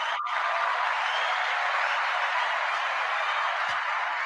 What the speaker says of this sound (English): I think our audience is going to applaud.